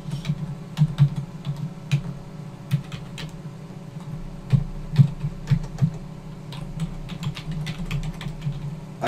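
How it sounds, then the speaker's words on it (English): Rapid, irregular keystrokes on a computer keyboard as every button is pressed, a steady run of close, sharp taps and clacks over about nine seconds with a low hum underneath and no talking. "Press every button on the keyboard"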